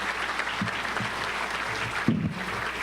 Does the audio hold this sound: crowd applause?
yes